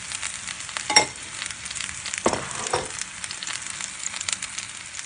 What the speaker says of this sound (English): You can see they're sizzling away nicely.